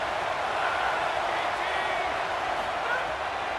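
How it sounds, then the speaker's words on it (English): Stadium crowd noise from EA Sports College Football 27 at an Ohio State Buckeyes home game on third down, a dense, steady roar of many voices that holds at one loud level throughout. "The Buckeye crowd alive on 3rd down."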